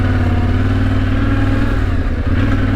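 A new Yamaha Tenere 700 adventure motorcycle rides over hard sand on unaired tyres, its engine droning loud and steady up close, with wind and tyre rumble beneath.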